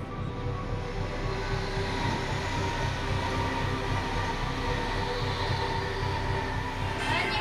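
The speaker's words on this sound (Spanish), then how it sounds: "Pekín amplió el recorrido de su tren de alta velocidad a lo largo de la nueva autopista" A high-speed train runs along the Lanzhou–Urumqi line in western China, giving a steady, continuous rumble with a faint hum and whine throughout, fairly close and unbroken, with no voices.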